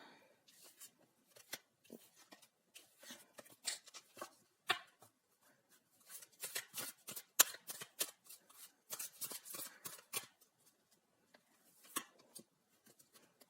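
Tarot cards being shuffled and drawn by hand, a run of soft, quick riffling snaps and slaps in irregular bursts, fairly close and quiet, with no talking.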